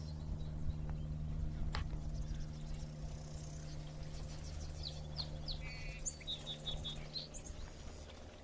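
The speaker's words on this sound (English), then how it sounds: "You can hear all the marsh wrens out right now." Scattered high chirps and buzzy trills from marsh wrens in a wetland, fairly faint and distant over a steady low background hum.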